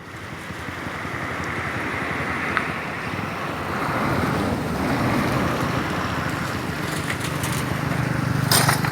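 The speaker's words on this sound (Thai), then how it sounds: "จะต้องผ่านเส้นทางนี้ แล้วก็ลุยน้ำเป็นคลื่นใหญ่แบบนี้นะครับ" Flood water surging in big waves across a road in Surin, Thailand as vehicles wade through, heard as a continuous loud rushing wash of water mixed with heavy wind buffeting on the microphone.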